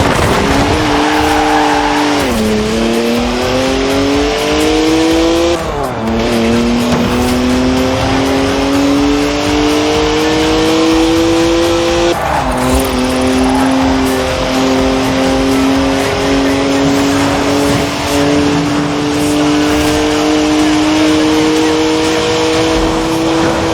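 BMW three-litre twin-turbo straight-six with 335 horsepower in a racing video game, loud engine droning and rising through gears with short dips at shifts, tire squeal from sideways sliding, and a voice talking over it.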